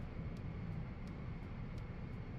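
A flight video game airplane engine drones as a steady, low, muffled hum, fairly faint and unbroken throughout.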